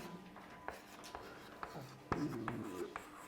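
Marker or chalk writing on a classroom board in short scratchy strokes with small taps, close and fairly quiet, with no voice.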